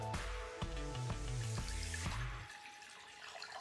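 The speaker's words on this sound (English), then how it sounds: "And then I'm gonna pour it in." Water poured from a container into a measuring jug for a capacity lesson, a gurgling, glugging stream with rising pitch over about two and a half seconds, then stopping, leaving quiet room tone.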